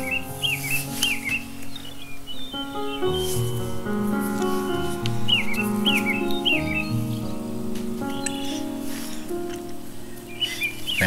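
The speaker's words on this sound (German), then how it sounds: "Ein schönes Vogelzwitschern." Birds chirp and trill in short repeated phrases over soft, sustained relaxation music, the calls recurring near the start, around five seconds, and at the end.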